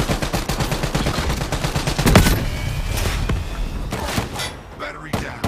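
Gunfire in Call of Duty Black Ops III, sustained rapid automatic bursts with a heavier impact midway and scattered shots after, loud and close, with voices speaking over the shooting.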